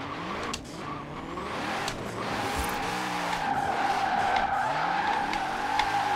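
A car drifts in a video game, its tires squealing in long wavering screeches over a revving engine, loud and continuous throughout.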